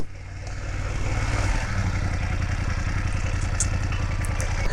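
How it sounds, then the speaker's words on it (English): A 2024 BMW F900 GS Adventure motorcycle engine runs steadily and loudly up close, a dense, even mechanical drone with a rough low pulse that holds throughout. "This was the bike, the F900 GS Adventure"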